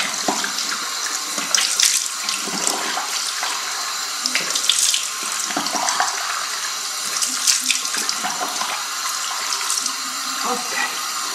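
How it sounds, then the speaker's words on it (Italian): Water from a bathroom sink tap runs steadily and close while someone rinses their face, splashing and spattering irregularly against the basin. "Mi risciacquo."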